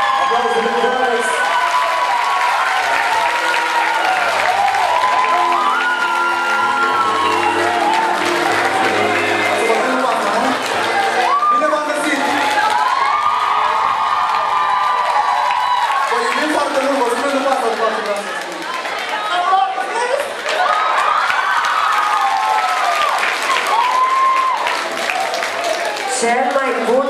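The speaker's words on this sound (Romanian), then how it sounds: "Aplauze pentru Alex!" Loud, sustained crowd cheering and applause fill a hall at the 2009 Romanian Dance Awards, with whoops and shouting rising over continuous clapping and a brief dip before the noise swells again.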